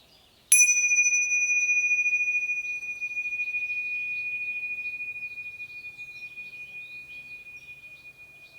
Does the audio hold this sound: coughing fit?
no